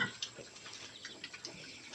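Three new, plump piglets grunting and squealing in a rapid run of short overlapping calls, close and fairly faint.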